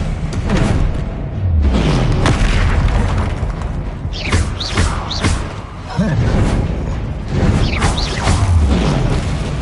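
Confringo spell explosions in a Harry Potter video game battle against a troll: loud, booming blasts and thuds packed into dense, continuous combat noise, with a voice calling out over it.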